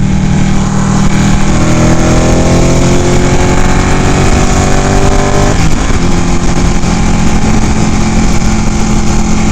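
A Ducati 899 Panigale motorcycle engine drones loud and steady while riding in fifth gear, its pitch slowly rising, then dipping and climbing again, with constant wind rush.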